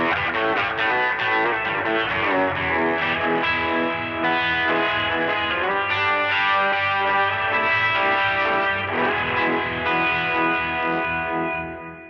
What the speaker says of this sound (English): notice this amp has all the fuzz and the distortion and all the effects.